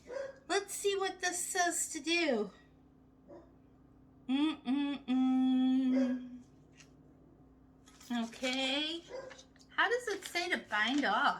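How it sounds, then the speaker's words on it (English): Small pet dogs bark in a home setting where someone is working a Sentro knitting machine, with a few sharp barks between stretches of someone talking nearby. "sorry about my doggies barking."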